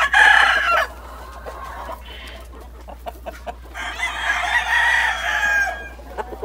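Hens and gamecocks of fine purebred fighting lines, including a claret hen, crow and cluck at a farm, with a loud crow at the start followed by scattered clucks and another long call, no talk.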